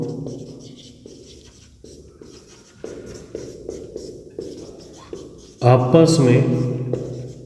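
A note is written during a Hindi-medium Class 9 geometry lesson on lines and angles. Soft, intermittent scratchy strokes run under a man's steady, close speech, and the writing grows louder and busier near the end.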